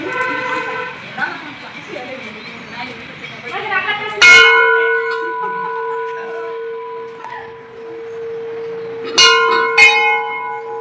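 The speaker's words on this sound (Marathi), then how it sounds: "हे नवीन लावलेत ग घंटी." Clear bell strikes ring out twice, each leaving a long sustained tone that hangs and fades, with some murmured voices before the first.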